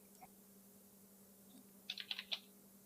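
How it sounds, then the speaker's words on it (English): Typing on a computer keyboard during a game developer Q&A, a quick cluster of four or five crisp key clicks near the end, faint and close, with a low steady hum underneath. "I'm also typing."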